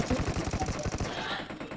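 Rapid automatic gunfire in the PUBG battle-royale video game: a fast, evenly spaced burst of loud shots that stops midway, followed by a softer rumbling tail.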